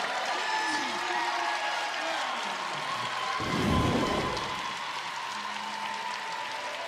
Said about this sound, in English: And you hear the applause from the crowd, much deserved.